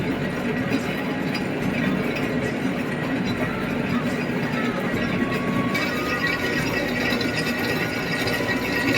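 A factory machine mixes flour dough with water, a continuous dense mechanical rattling and grinding that stays steady and loud throughout.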